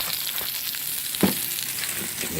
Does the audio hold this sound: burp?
no